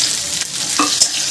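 Chopped tomatoes hit a pan of frying garlic and four dried red chillies, setting off a loud close sizzle with quick stirring scrapes and a couple of sharp spits.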